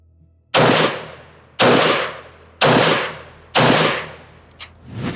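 An AK rifle fitted with a GPN flash hider fires four loud, sharp shots outdoors at a range, about one second apart, each followed by a long ringing decay.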